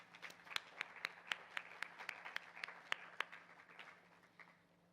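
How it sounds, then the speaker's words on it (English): Audience applause at a conference on women working for change, a small group clapping in an evenly spaced rhythm, fairly quiet and distant, fading out toward the end. "So I'd like you to give her a round of applause."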